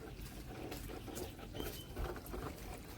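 Rain falls steadily in a village near Jamnagar, making a dense, continuous patter with small irregular bumps and no voices.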